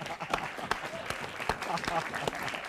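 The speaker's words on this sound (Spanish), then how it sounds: "Un aplauso para ella." A studio audience at a live television interview claps in a loose, moderate burst of distinct hand claps with some voices murmuring beneath it.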